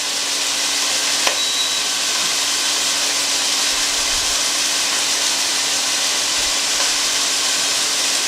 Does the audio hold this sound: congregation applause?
no